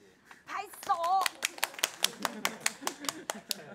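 Hands clap about a dozen times in a steady, fairly quick rhythm, close and crisp, after a brief stretch of talking at the start.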